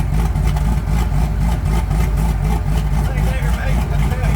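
A truck's turbocharged 5.3 engine idles warm after running for half an hour, a steady loud low rumble with an even pulse, heard up close.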